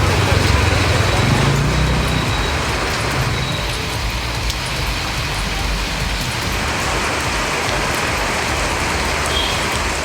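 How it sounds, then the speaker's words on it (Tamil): Heavy rain pours down over Kudavasal in Tiruvarur district, Tamil Nadu, a dense, steady, loud hiss that continues without a break and has no clear voices. "1 மணி நேரத்திற்கும் மேலாக கனமழை பெய்தது"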